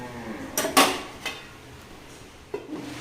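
A metal lid clatters onto a cooking pot of khichuri, a couple of sharp clinks and a softer knock close by in a quiet kitchen, with no talking.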